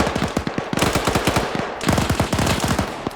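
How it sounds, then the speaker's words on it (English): Sustained machine gun suppressive fire in a military video game set in Afghanistan, two long close bursts of rapid, evenly spaced shots with a brief pause between them. "A lot of this is just suppressive fire as well"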